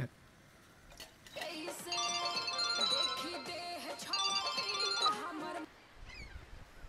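A melodic electronic phone ringtone plays for several seconds, fairly loud, then stops abruptly as a voice continues faintly.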